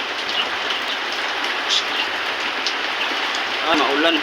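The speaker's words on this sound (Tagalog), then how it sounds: "Maulan ngayon na gabi" Steady night rain pours down in a backyard workshop setting, a dense close patter on surfaces throughout with brief faint sounds over it.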